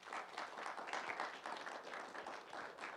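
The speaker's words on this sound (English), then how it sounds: "If I get a round of applause for him." A faint round of audience applause at a college idea pitch competition, a steady dense patter of many hands clapping throughout at low, distant level.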